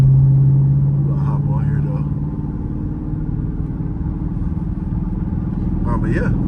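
A 2022 Dodge Charger Scat Pack, still cold, rumbles low and steady while pulling onto a highway; someone talks briefly over the engine drone.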